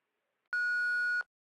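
A single electronic answering-machine beep in the Thimbleweed Park video game, one steady clean tone lasting under a second, loud and isolated against silence.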